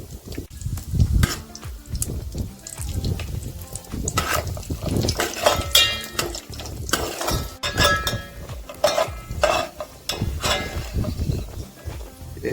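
Bottle gourd halwa with dry fruits stirred in a pan, with a spoon clinking and scraping against the metal in an irregular rhythm, close and fairly quiet, with no talk.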